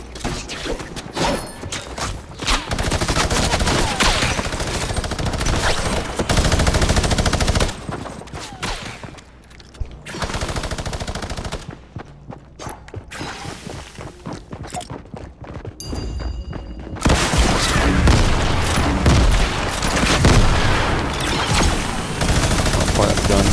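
Gunfire in the video game Fortnite: loud, dense rapid shooting that rattles almost continuously, drops away briefly midway, then returns in heavy bursts over the game's background noise.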